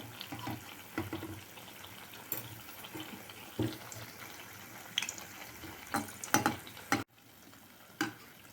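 Sweet wheat flour bonda balls frying in oil, a steady soft bubbling with scattered louder crackles and stirring clatters, close by, with no talk.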